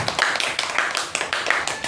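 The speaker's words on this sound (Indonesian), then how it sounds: "kasih tepuk tangan dulu buat kelompok 1." A classroom of elementary school children claps together in quick, ragged applause, close and fairly loud throughout with no speech over it.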